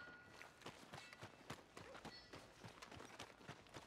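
A horse's hooves clip-clop at a quick, steady trot as it draws near in Red Dead Redemption 2, fairly faint against soft ambient game sound.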